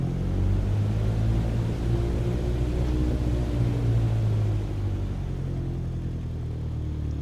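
A steady, droning engine hum with low tonal bands holds at an even level throughout, like a propeller aircraft cruising in Microsoft Flight Simulator 2020, with no voices.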